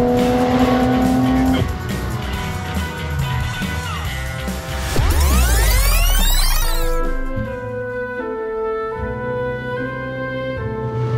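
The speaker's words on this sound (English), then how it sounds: "I'm now driving the BMW 2000 SA, a odd and uniquely designed car." A BMW 2000 SA car drives close by, loud engine revving up and down through the gears with a sweeping pass as it accelerates and shifts, no speech.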